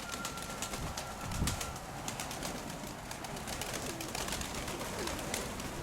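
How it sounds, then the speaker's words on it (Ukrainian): Pigeons coo softly inside a dovecote, with low murmuring calls and faint wing rustles under a steady background hiss, with no talk. "Ну, от цей голубник. Потім ще оцей, тут ще є голуби."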